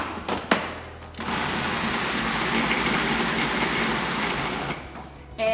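Food processor whirls a dog treat mixture for about four seconds, a steady close buzzing whir between brief clatters at the start and finish.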